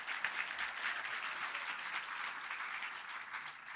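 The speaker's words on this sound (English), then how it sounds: "Let's give them a round of applause" Steady applause from an audience at the CSIR Excellence Awards 2022 ceremony, a dense wash of many hands clapping at an even level for the whole stretch, with no talk over it.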